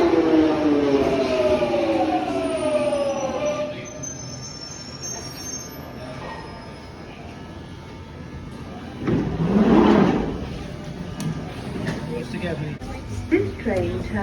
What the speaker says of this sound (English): Here comes our Jubilee line train to Westminster.